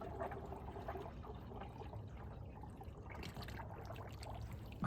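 Tap water being poured by hand into the radiator of a 1978 Datsun 280Z, a radiator suspected of having a hole, giving a steady, faint trickling and splashing that runs continuously with no talk.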